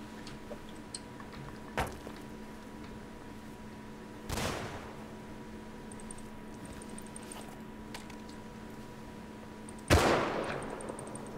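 Gunfire and explosive blasts in the video game Rust, a few sharp isolated bangs with rumbling tails, spaced apart over a steady low hum.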